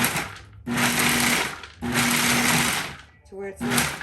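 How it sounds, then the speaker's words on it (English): A food processor pulses nuts for a gluten-free crust in loud whirring bursts, two longer runs and then a couple of short pulses, with no speech. "I'm gonna pulse it a little bit first."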